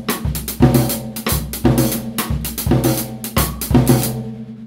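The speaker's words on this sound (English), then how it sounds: "You can add a skeletal part of the conga part, and it'll sound like this." Drum kit toms beating out a skeletal conga-style Latin rhythm, with loud, resonant hits in a repeating syncopated pattern played alone.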